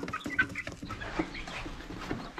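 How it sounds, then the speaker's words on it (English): Silver laced hens in a backyard flock clucking softly and steadily, close by amid faint outdoor background noise, with no talking. "Her crazy chickens."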